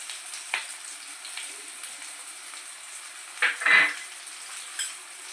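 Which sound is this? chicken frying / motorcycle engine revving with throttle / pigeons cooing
chicken frying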